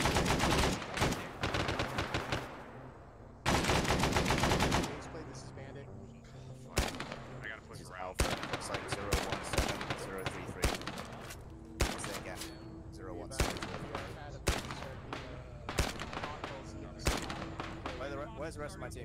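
Repeated AK rifle fire in the Vietnam-era Arma 3 military game, with sustained automatic bursts early on followed by scattered single and short volleys at varying distances, while people speak over the shooting.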